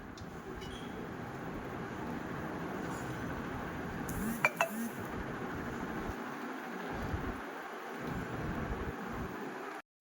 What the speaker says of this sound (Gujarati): આ બાજુ બા વાસણ એક બે કરે છે